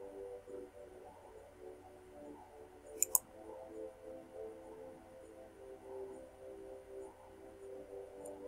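A computer mouse clicks Next during Windows XP setup: two quick, sharp clicks in close succession, faint against a quiet room hum.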